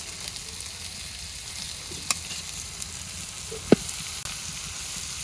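Leafy greens hit oil tempered with chopped onion, garlic and green chili in a village kitchen, making a steady, moderate sizzling hiss broken by a few sharp clicks and clinks.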